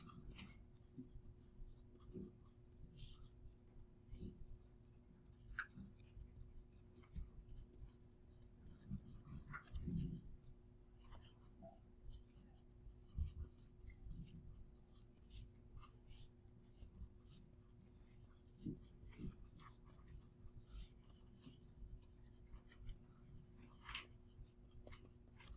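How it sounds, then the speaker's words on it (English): Marker or pen writing out a ray diagram for curved mirrors, heard as faint, scratchy strokes in quick bursts against a quiet room hum, with no talk. "I'm going to write a bit bigger."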